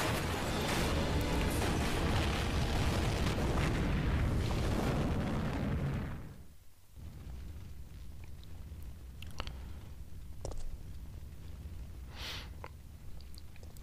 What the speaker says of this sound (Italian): Ma è vero, una pompa a benzina, esplosione tipo catastrofica.